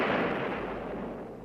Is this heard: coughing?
no